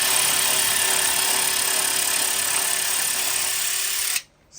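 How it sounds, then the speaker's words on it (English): A power tool runs at steady high speed while removing the 10 millimeter bolts on the radiator support of a Civic Type R FK8, a continuous loud whir that cuts off sharply near the end. "Removing the first 2 10 millimeter bolts right on the radiator support."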